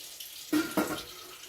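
Kitchen tap running into a bowl to catch water for soaking cut potatoes, with a short rushing stream that swells twice and then settles into a steady, fairly quiet flow, close by.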